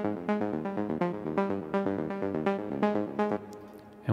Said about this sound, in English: delay plugin, Replica XT from Native Instruments